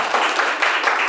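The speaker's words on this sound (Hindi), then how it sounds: "ये जोरदार तालियां होनी चाहिए।" An audience gives applause for an achiever at a business-plan meeting, a short, loud burst of many hands clapping with slight surges, no voices over it.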